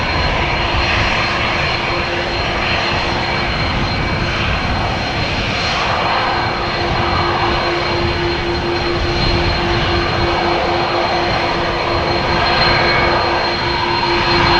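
KLM Airbus A330 with GE CF6 jet engines at Amsterdam Schiphol airport, a loud, steady roar with a sustained whine running through the whole stretch, no talk.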